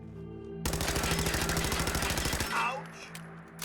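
Sustained automatic weapon fire in Fallout 4 survival mode, a loud continuous rattle of rapid shots lasting about two seconds, then fading impact sounds over background music.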